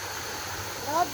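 A river rushes in a steady, broadband flow on a hillside hiking trail, loud and continuous throughout, with a few brief high tones near the end.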